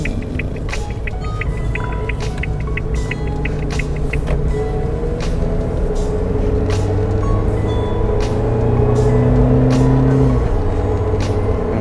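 A Suzuki Jimny JB74 fitted with Tough Dog suspension drives on a road, its engine note rising steadily as it accelerates, with a loud rumbling cabin drone and intermittent clicks and knocks over the top; no one speaks.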